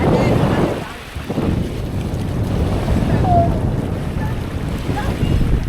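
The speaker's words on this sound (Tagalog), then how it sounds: "Nasa gitna tayo ng dagat." A boat out in the middle of the sea off Anda, with steady wind buffeting the microphone and the low rush of water and waves around the hull, continuous and loud, with faint voices in the background.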